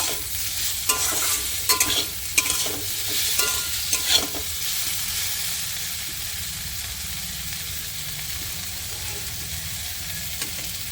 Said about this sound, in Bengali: স্বাদ অনুযায়ী লবণ দিয়ে দেবো দিয়ে নাড়া দিয়ে নেব